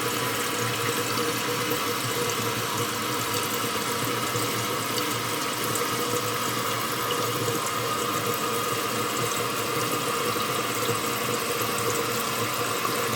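A toilet tank with a cracked float runs water nonstop, a steady hissing rush with a low hum beneath it, close and unbroken from start to finish.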